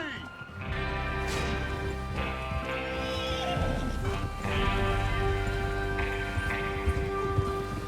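Horses in the Red Dead Redemption video game whinny and stamp their hooves as a gang readies to ride, steady clopping and neighs running throughout beneath a voice.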